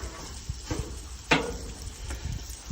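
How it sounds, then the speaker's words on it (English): Dim sims sizzle softly in a frying pan, a low steady crackle with a few brief clinks and scrapes of a utensil against the pan. "we're just going to let them sizzle away just for a little bit longer"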